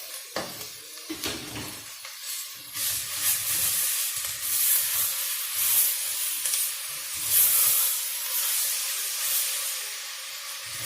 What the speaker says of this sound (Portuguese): Minha cebola já ficou transparente, agora eu já vou acrescentar minha carne aqui